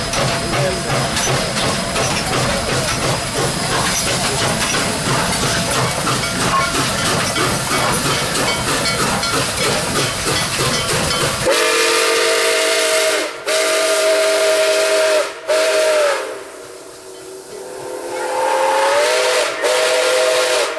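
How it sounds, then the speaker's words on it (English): Steam locomotive 765 runs past trailing its train, a dense chuffing roar giving way to long, loud whistle blasts with brief breaks between them. "Now we watch as 765 runs past the bystanders alongside the tracks."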